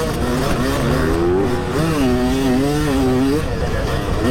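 A KTM motorcycle engine drones loud and close while riding in sand, its pitch rising and falling steadily as the throttle shifts, with no talk over it.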